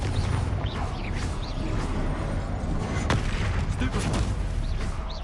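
Confringo fire-blast spell explosions in the Hogwarts Legacy video game, dense booming impacts and crackling blasts overlapping in continuous loud combat noise with bits of in-game voice.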